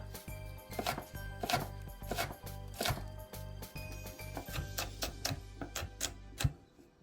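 A knife slices vegetables, cut lengthwise into quarters with the seeds left in, on a board in a home kitchen, giving a steady run of crisp, close chopping taps at an uneven rhythm with no talking.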